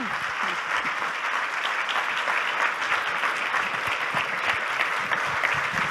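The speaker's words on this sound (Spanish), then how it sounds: "recibámosla con ese fuerte aplauso" Strong, steady applause from a church congregation fills the room for the whole stretch, dense and continuous with no speech over it.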